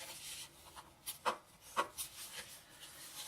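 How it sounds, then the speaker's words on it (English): Paper being folded and burnished for an Easter lollipop holder: soft intermittent rubbing and scraping strokes close by, with two sharper swipes in the middle, quiet and without speech. "let's do some folding and burnishing"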